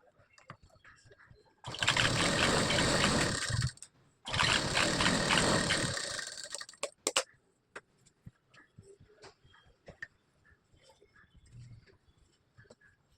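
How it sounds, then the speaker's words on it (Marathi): A sewing machine stitches a narrow pant leg in two loud, steady whirring runs of a few seconds each, separated by a brief pause, then falls quiet with faint handling sounds afterward. "याच्यावर मी शिलाई मारणार आहे."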